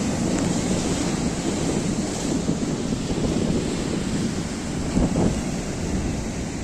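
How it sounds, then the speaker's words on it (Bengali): Rough sea surf pounds the shore during a violent pre-monsoon storm at high tide, a dense continuous roar of waves mixed with strong wind buffeting the microphone, with a slightly louder surge near the end and no one talking. "সমুদ্র উত্তাল সাথে রয়েছে সমুদ্র পুরো দেখো"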